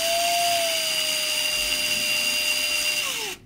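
A Metadyne thumper running with an uncentered piston that binds as it moves forward: a steady loud mechanical whine with a high tonal hum that drops in pitch and cuts off abruptly at the end.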